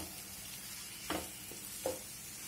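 Chopped tomatoes dropped onto onions already frying in a pan give a soft, steady sizzle, broken by a couple of brief stirring scrapes and clinks.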